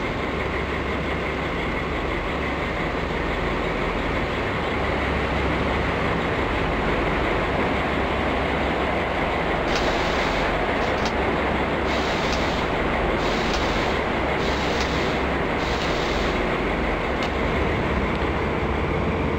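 Train passing in the MSTS train simulator on Polish line 202, a 1980s passenger service, with a loud steady rumble and rolling wheel noise throughout and rhythmic clacking bursts in the second half.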